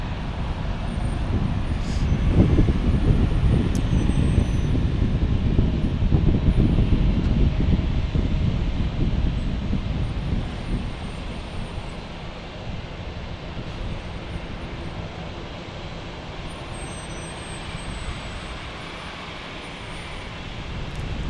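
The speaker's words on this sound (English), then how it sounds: "And then we have a JetBlue A321 up next on runway 28 right." A JetBlue Airbus A321 jet on runway 28 right at Fort Lauderdale International Airport, a broad steady engine roar with wind, louder at first and then easing into a quieter distant rumble.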